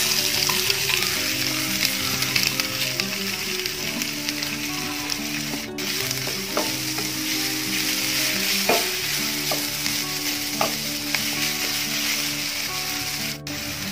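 Onions, curry leaves, green chili, ginger, garlic and small tomatoes sauté in a pan while being stirred, a steady loud sizzle and frying hiss running throughout with occasional scraping stirs, no talk.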